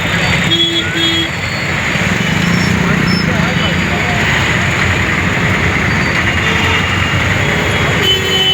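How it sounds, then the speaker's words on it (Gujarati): A train passes along a busy road crossing in Surat, a steady rumbling rail and wagon noise under heavy traffic, with people talking over it throughout. "જો મિત્રો ટ્રેન પણ જઈ રહી છે અહીંથી"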